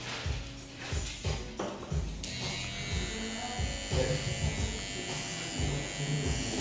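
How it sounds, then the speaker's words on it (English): An electric hair trimmer buzzes steadily and close, with a clicking, tapping texture early on before settling into a continuous whine, while a person talks quietly. "you want it to be as sharp as you can get it with just your trimmer"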